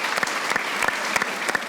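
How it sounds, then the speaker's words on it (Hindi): Live studio audience applauding steadily throughout on a Pakistani cricket talk show, with dense clapping pulsing in several louder swells and no voices over it. "जहीर अब्बास के लिए एक बार बहुत ही नज़ार तालियां।"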